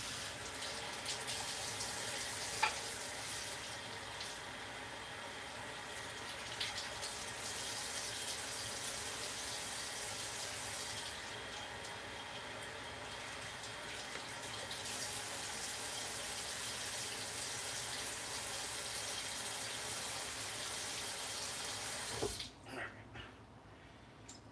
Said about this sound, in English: fill it up, empty it out.